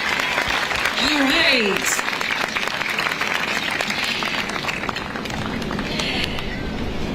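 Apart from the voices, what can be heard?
applause at an inauguration ceremony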